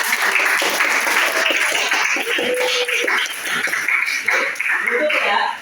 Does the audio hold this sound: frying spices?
no